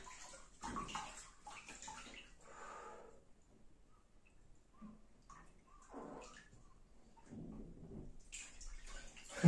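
Hot water at 42 degrees in a Japanese ofuro bath sloshes and splashes in intermittent bursts as someone moves in the tub, close and fairly quiet, with brief splashy swells and calmer gaps between.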